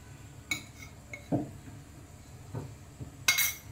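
A spoon clinks and scrapes against a pan as garam masala is stirred into a taro (alu) curry: a few sharp close knocks and short scraping strokes over a quiet background, with no voices.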